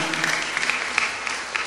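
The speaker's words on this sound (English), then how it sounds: "It deserves a round of applause" A church congregation gives a round of applause during a sermon on evangelization and healing, steady clapping at moderate loudness for under two seconds with no talk over it.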